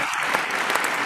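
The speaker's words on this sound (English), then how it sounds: "Standing ovation." A brief burst of enthusiastic clapping from a livestream concert audience after a song, steady and fairly soft, with no talk over it.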